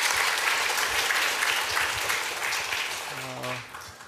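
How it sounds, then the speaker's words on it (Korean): Applause fills a church during a Sunday worship service, dense and steady for several seconds, then thins and fades near the end as a voice begins speaking over it. "우리 하나님께 영광의 박수 올립니다"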